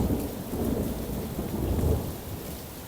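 A rainstorm in Sicily, with steady heavy rain hissing on surfaces and a low thunder rumble swelling underneath. The sound is continuous and moderately loud, with no voices.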